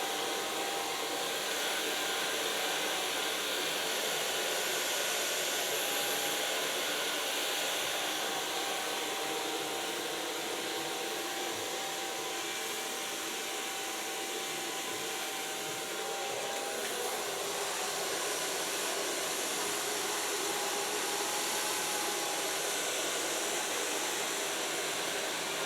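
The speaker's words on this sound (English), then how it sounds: "Takes a lot of effort to dry her hair because she has real thick hair." A hair dryer blows steadily on thick hair during a salon styling session, a constant airy whoosh held at even level throughout, fairly soft with no talking.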